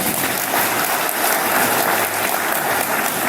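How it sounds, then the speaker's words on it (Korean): An audience at a Korean taping continuing-education session gives a short burst of dense, even applause, steady and close throughout. "이럴 땐 박수 한번 쳐드리세요"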